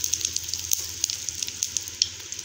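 Mustard seeds, cumin, urad dal, fenugreek and asafoetida sizzle in hot sesame oil for a tempering, giving a steady close frying hiss dotted with quick, sharp crackles and pops.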